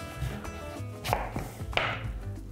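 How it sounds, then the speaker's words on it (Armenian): A knife chops food into slices about 1 cm thick on a cutting board while a pumpkin and beef dish is prepared; several crisp, close knife strikes land at an uneven pace with no talking. "Կտրատում ենք տափողակների մոտ 1 սանտիմետր"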